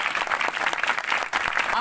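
A congregation claps together at an outdoor religious meeting in a Faisalabad village, a brief steady patter of many hands at moderate volume.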